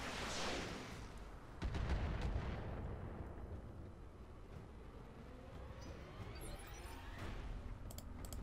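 Heavy mech weapons fire in the Roguetech mod of the Battletech video game, a loud burst of blasts and rumbling impacts that trails off into a long decaying roar, with sharper cracks near the end.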